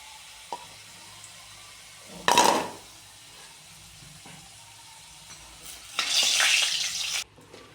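Potatoes frying in hot oil, a low steady sizzle broken by two louder bursts of stirring and spattering, close by with no talk.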